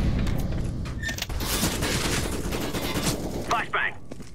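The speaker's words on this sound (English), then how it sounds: "Flashbang." Flashbang grenade and gunfire in a Counter-Strike match, a dense barrage of loud bursts and bangs filling the scene, with a bright sharp pop near the end.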